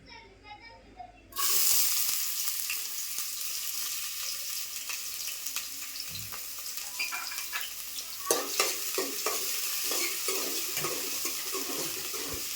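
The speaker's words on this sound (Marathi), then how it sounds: "तर पहिल्यांदा आपल्याला फोडणीला कांदा टाकायचा आहे." Onion dropped into hot oil for a tadka, bursting into a loud steady sizzle after a quiet start, with scraping stirs and spoon knocks later, for a village-style Malvani chicken curry.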